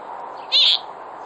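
A pet Senegal parrot lets out a single short, bright chirp, close and alone against quiet room tone.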